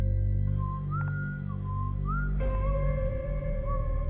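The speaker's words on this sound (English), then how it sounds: "we heard the whistling." Eerie whistling floats over a steady low drone, a few wavering rising and falling notes drifting in and out, thin and haunting, with no voices.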